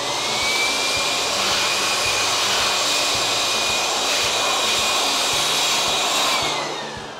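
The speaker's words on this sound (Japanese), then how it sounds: "ハブボルト乾かそうと思います。" Steady, loud rush of an air blower drying the wheel hub bolts of a GR Yaris with BBS wheels during a car wash, continuous alone for about seven seconds with a faint whine, tapering at the end.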